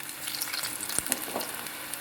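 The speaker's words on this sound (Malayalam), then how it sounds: "നമുക്കിനി ഓരോന്നായിട്ട് ഇത് ഫ്രൈ ചെയ്തെടുക്കാം." Cauliflower pieces fry in hot oil with a steady close crackling sizzle, dense and continuous, marked by a few sharper pops.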